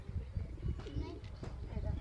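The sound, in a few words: pigeons cooing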